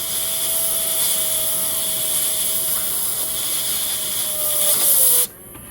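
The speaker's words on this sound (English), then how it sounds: "Just blow some compressed air in there. Loosen up the sludge." Compressed air hisses steadily and loudly into an old electric motor for about five seconds, broadband and alone, with a faint whirring tone from the spinning motor before the blast cuts off abruptly.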